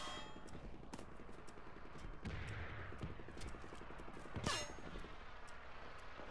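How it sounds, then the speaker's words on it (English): Dense gunfire and rapid machine-gun bursts in the World War II shooter Enlisted, layered shots and clanks with a louder close blast midway, continuous battlefield fusillade without talk. "Already getting shot at"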